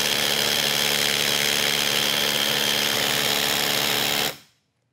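A power drill fitted with a Bosch accessory whines loudly and continuously at close range for several seconds while drilling downward, throwing out silica dust, then winds down and stops.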